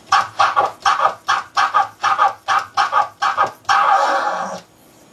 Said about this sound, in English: I like to call chopping. Sounds like this.